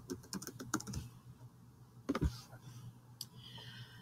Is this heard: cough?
no